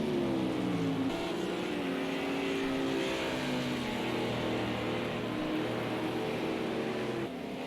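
A GT1 race car in Project Cars 2 roars steadily at Hockenheim in the rain, a loud sustained engine note with shifting pitch as it holds high revs.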